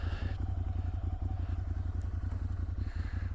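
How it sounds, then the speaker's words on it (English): A 2011 Ducati Monster 796 motorcycle engine rumbles steadily at low revs, a deep, close, pulsing throb that stays even throughout, with no talking over it. "Oh, it's got a nice rumble."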